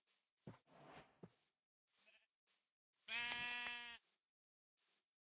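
A sheep bleats once in the Minecraft video game, a short nasal wavering call that follows a few soft footsteps and thumps, quiet and with no talk.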